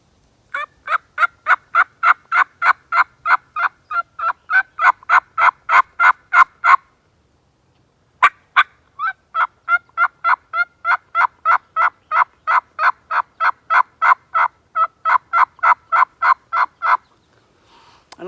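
A mouth call imitating a wild turkey hen's assembly yelp: long runs of steady, evenly spaced yelps, loud and close, broken by one short pause and then resuming at the same brisk rhythm.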